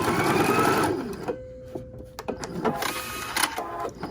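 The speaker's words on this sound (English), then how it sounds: "6 layers of fabric, and let's just go ahead and stitch. It goes real fast, so I'm actually going to slow it down." A Viking Epic 980q sewing machine runs through six layers of fabric, whirring fast at first and then slowing into a quieter, uneven run of mechanical ticks and clicks heard up close.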